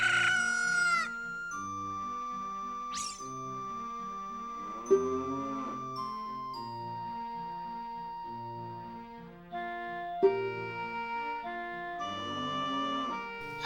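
A cucco chicken crows in The Legend of Zelda: Ocarina of Time, with loud stylized cock-a-doodle-doo calls alone over a chiming game music loop.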